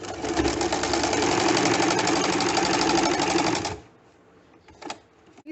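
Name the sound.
sewing machine stitching a collar outline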